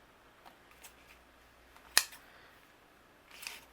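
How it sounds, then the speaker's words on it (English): A single crisp scissor snip cuts the tails of a ribbon bow on a handmade tag, a sharp close click standing alone amid quiet, followed by a softer rustle near the end. "Trim those tails of the bow."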